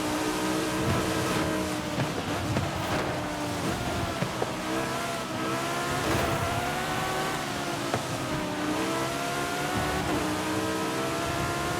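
A race car engine in Forza Horizon 5 drones steadily for the whole stretch, with rising and falling harmonic pitch as it revs through a retro supercar endurance race, loud and continuous with no voices.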